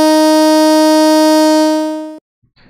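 A buzz siren from a Tucanos alarm gives a loud, steady buzzing tone with strong harmonics for about two seconds, then fades and stops sharply, followed by brief faint noise.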